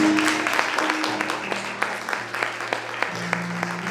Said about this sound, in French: On acclame tout le monde, acclame ça.